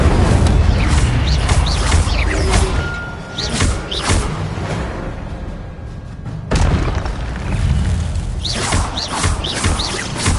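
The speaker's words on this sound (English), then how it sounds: "Incendio!" Incendio fire spell cast in the video game Hogwarts Legacy, loud booming bursts and crackling blasts with a brief quieter lull midway, then another burst of impacts in a dense game soundscape.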